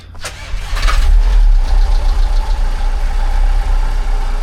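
A VW Crafter campervan engine cranks briefly and catches, then settles into a loud, close, rough idle with a low rumble that keeps running steadily.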